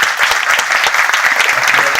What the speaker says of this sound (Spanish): Pedimos por favor un fuerte aplauso